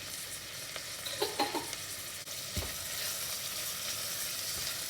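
Onions with cloves and cardamom fry in a pan for prawn biryani, giving a steady soft sizzle with a few quick stirring scrapes early on and no talk.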